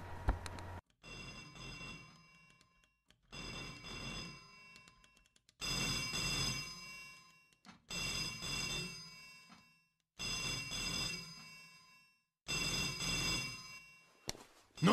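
A telephone rings in repeated bursts, each about two seconds long with short silent gaps between, loud and close with a bright electronic tone, in a film scene.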